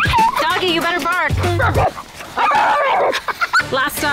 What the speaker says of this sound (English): Doggy, you better bark.